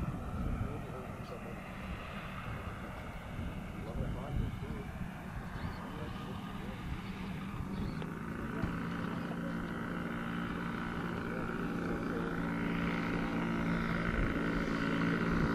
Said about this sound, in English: Okay, tow plane landing from the north.